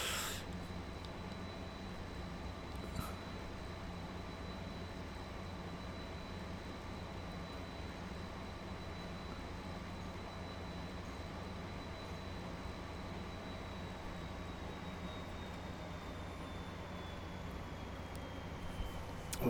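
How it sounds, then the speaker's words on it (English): Trains running in the video game Transport Fever, a steady low mechanical rumble with a faint sustained high whine, continuous and even throughout with no talk. "Wow, these trains are so slow."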